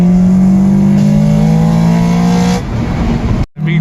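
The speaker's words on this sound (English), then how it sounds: "always gotta hit a little bit of VTEC" An Acura TSX engine revs hard into VTEC, a loud, close, steady rising engine note held for a few seconds before cutting off abruptly.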